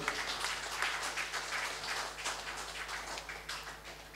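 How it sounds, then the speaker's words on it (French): Faint, distant audience applause at a conference fills the room steadily for a few seconds under a low constant hum, with no speech over it. "On va applaudir le ministre Séverin Quenom, s'il vous plaît."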